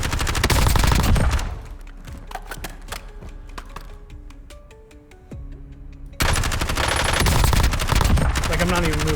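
Automatic gunfire from Call of Duty Warzone comes as loud, rapid-fire bursts, with a dense stream of shots at the start and end and sparser crackling shots in between, alongside game sounds.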